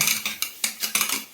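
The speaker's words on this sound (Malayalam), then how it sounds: "കുറച്ചധികം പാത്രം കഴുകാൻ കിടപ്പുണ്ട് കേട്ടോ. നമുക്ക് കഴുകിയെടുക്കാം." Dishes and pots clatter and clink during washing, a quick run of close, sharp knocks and scrapes with no voices.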